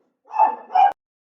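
A dog indoors barks at other dogs passing the window, giving two loud, close, sharp barks in quick succession before the room falls silent.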